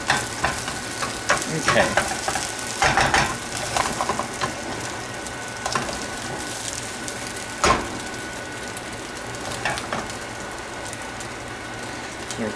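An omelet sizzles and fries in a pan, a steady crackling hiss broken by occasional louder pops and scraping stirs, with a brief word spoken over it.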